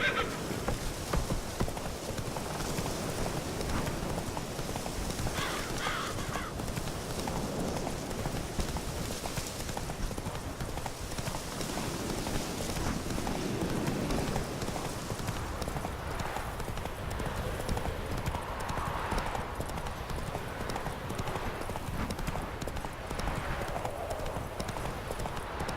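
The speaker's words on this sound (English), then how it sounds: "Whoa there, Roach" Horse hooves clip-clop at a gallop in The Witcher 3, steady and continuous over ambient game sound, with an occasional whinny and someone speaking.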